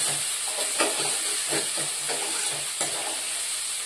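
Green chillies and onion fry in a pan for a home-style egg curry, giving a soft continuous sizzle and hiss with a few light stirring scrapes, heard alone and fairly quiet.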